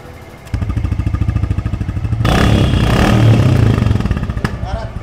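A second-hand Royal Enfield Bullet motorcycle engine idles with a rapid, steady thumping close by, then revs up louder and rougher before settling back, with a voice faintly underneath.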